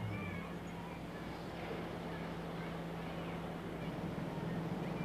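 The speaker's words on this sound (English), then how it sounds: "Those damn cats." Cats in a 1969 film scene meow faintly under a steady, hissing background, their cries soft and indistinct against the noise.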